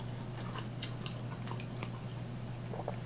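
Crunchy fried diner food is bitten and chewed close to the mic, with soft crisp crunches scattered over a steady low hum and no talking.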